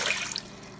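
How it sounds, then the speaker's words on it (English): Water poured into the inner pot of a Ninja Foodi: a brief, bright splashing gush that is loudest at the start and then settles into a softer trickle. "So to this, we're going to add 2 cups of water."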